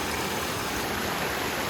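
A small, pretty stream flows steadily near a residential area where children play, giving a constant broadband rush of water close to the microphone with no voices.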